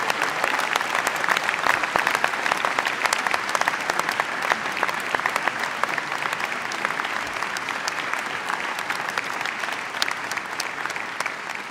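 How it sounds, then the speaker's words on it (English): Sustained applause from a graduation ceremony audience at an international school, dense and even clapping that carries on steadily with no break. "Let's give them a round of applause."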